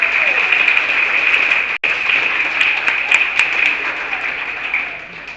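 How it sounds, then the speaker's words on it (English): A roomful of people at a gathering give a round of applause, steady dense clapping that runs throughout, broken by one brief dropout near the middle and easing slightly toward the end. "Could we give a round of applause for everyone in this room?"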